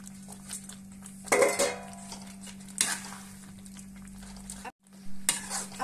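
Fried, marinated soya chaap pieces go into cooked masala gravy in a pan, giving a run of stirring scrapes and metal clinks over a steady low hum and light sizzle, with a short pause near the end.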